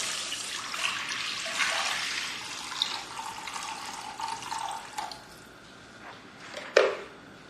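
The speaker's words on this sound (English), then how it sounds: "Now in the same vessel, pour some water, about 4 to 5 cups." Water poured into a cooking pot, about four to five cups, while making vermicelli upma: a steady broadband splashing stream running for several seconds with a brief louder splash near the end, no talk.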